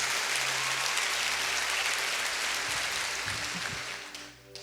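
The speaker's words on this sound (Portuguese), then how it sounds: "Pode dar uma salva de palmas para Jesus." Congregation applause in a church service, a steady wash of many hands clapping that holds loud and fades toward the end.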